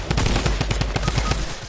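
Rapid gunfire in a video game, a dense run of loud, close shots cracking in quick succession with no pauses, alone without talk.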